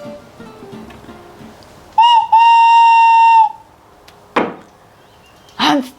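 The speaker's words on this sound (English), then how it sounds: "So I bought a tin whistle." A tin whistle gives a brief bright note, then a held steady tone of about a second and a half, loud and close, with scattered knocks and clatter before and after.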